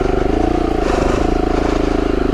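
A trail motorbike stuck on a muddy Sussex and Hampshire trail spins its rear wheel. The engine runs loud and close with a steady, pulsing drone.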